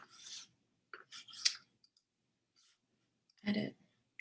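Short computer mouse clicks while objects are copied and pasted in Adobe Illustrator, several bursts of light clicking and rubbing in a quiet room, alone.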